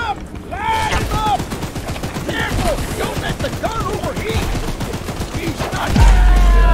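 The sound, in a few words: gunfire from a video game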